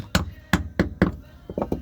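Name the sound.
hammering caulking into wooden boat seams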